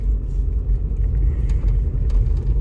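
A cold VW Golf Mk4 engine runs while driving down a rough road, with a loud, steady low rumble and drone and no talking.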